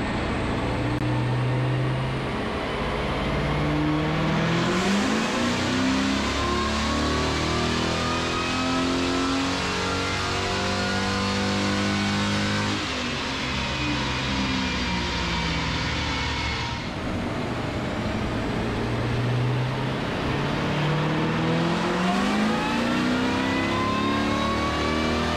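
A Roots-supercharged Ford Mustang with a stock-cam, non-PI 4.6L two-valve V8 on pump gas revs hard on a chassis dyno, its loud, steady engine note rising through long pulls with a brief shift-like dip midway.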